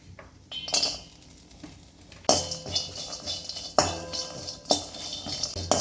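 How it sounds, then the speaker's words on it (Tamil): Curry leaves and garlic dry-roast in a kadai, with sharp bursts of crackling sizzle and scraping stirs that come in waves, each surge loud and close before fading back to a quieter fry. "நான் முதல்ல வந்து கருவேப்பிலையும் பூண்டையும் சேர்த்து வறுத்துக்கிறேன்"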